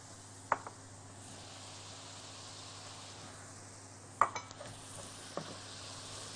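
Garlic going into a hot pan of chicken seared in a little oil with salt and pepper sizzles in a steady, close hiss, broken by a few sharp clacks of a spoon or spatula stirring against the pan.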